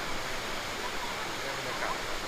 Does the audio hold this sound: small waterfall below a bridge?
yes